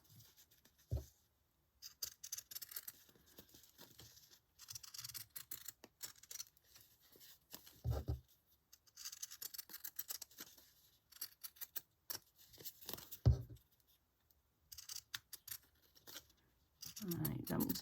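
Pinking shears snipping through scrap fabric close up, bursts of crisp crunching cuts separated by pauses, with a voice speaking quietly in between.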